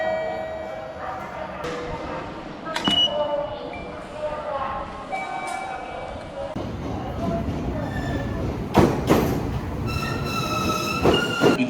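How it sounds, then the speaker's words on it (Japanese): A local train from Hachinohe pulls into platform 1 at an Aomori station, with a steady rumble and squealing wheels that grow louder and closer, and bright chime-like tones sounding over it while an announcement voice speaks. "1番線には八戸からの普通列車が到着です"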